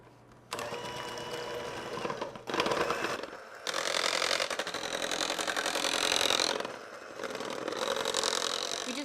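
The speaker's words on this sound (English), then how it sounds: "Now you're going to mix the batter." An electric mixer whirs loudly and continuously through cupcake batter, starting abruptly and cutting out briefly a couple of times before running on, close and alone.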